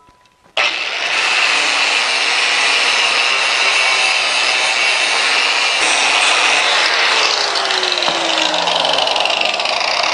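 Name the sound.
abrasive cleaning up a brazed metal tool rest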